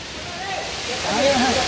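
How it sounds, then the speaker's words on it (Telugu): Sarugudu waterfall near Narsipatnam, a broad steady rush of falling water filling the scene, with faint voices blended into the roar. "సరుగుడు వాటర్ ఫాల్స్కి అయితే వచ్చాం."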